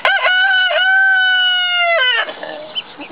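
A rooster crows loudly and close by, one long drawn-out call with a rising start, followed by a brief rustle.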